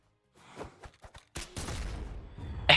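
Gunfire from a gun recovery in the Brawlhalla fighting game: a few quick light pops, then a louder burst blending into a dense rush of game noise that swells at the end.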